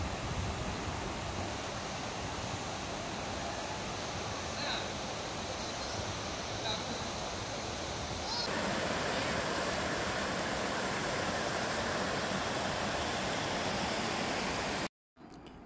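River water rushing steadily over rocks at Sungai Kenerong, a loud continuous broadband wash that holds throughout and swells slightly partway through, with no other sounds standing out.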